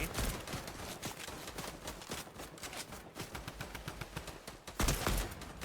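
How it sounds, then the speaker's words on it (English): Dense crossfire in the video game Fortnite: rapid, overlapping gunshots and automatic bursts rattle almost without pause, with a louder volley near the end and no voices. "everyone's shooting at him with just a big crossfire"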